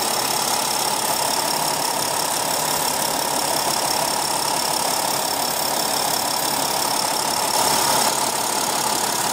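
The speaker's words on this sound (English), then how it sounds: "this turbo diesel is a very refined and powerful powertrain" A 2015 Mercedes-Benz GL350 turbo diesel V6 runs with a steady, dense, loud drone that holds unchanged throughout.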